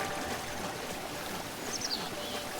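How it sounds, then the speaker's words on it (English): Water falling at Skyview Spring in Breath of the Wild, a continuous even rush of splashing water with faint bird-like chirps drifting in partway through. "this is the real Skyview Spring, with the water falling from everywhere"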